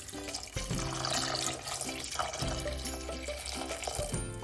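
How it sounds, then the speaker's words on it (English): Water is poured into a pot over ginger and pepper for a homemade cold remedy, a steady running gush lasting several seconds under faint tonal background sound. "We just put all the ingredients into a pot and we cover them with water."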